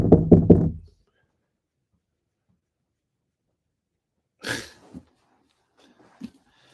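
Three quick, solid knocks sound close at the start, then silence, followed by a short sneeze-like breathy noise and a faint click.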